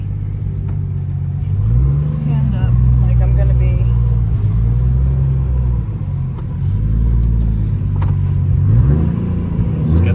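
A 600 hp Nissan car with a modified RB25DET engine revving repeatedly, deep rising and falling engine pulls close by, with people talking over it.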